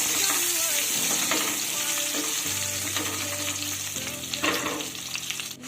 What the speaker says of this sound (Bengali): গ্যাসের হিট লো টু মিডিয়ামে রেখে ধীরে ধীরে পটলগুলোকে ভেজে নিতে হবে।